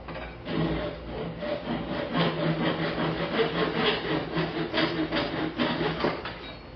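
A hand saw cuts through wooden dowels with quick, even back-and-forth rasping strokes, a fairly quiet, close and continuous sawing rhythm with no talking.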